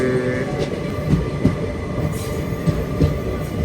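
The Sai Nagar Shirdi to Tirupati Express runs steadily toward Tirupati, with a continuous loud rumble inside the carriage, rhythmic wheel clacks over rail joints and a brief high squeal early on.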